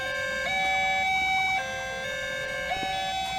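A railway level crossing siren in the Roblox game, set at an Indonesian-style rail crossing, sounds as a loud electronic two-tone wail whose pitch steps up and down several times, alone and close.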